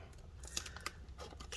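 Adhesive strip peels away inside a 2020 13-inch M1 MacBook Pro, a close, faint crackling tear with a couple of sharper ticks, no voices.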